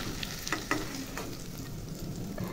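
Cauliflower frying in a pan with turmeric and salt, a steady close sizzle with a couple of stirring scrapes and no talk.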